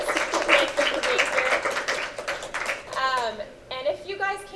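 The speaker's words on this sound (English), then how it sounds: "Can we give a quick round of applause for our panelists?" An audience at a panel discussion gives a brief round of applause for the panelists, dense clapping that fades as a voice resumes talking over the tail end.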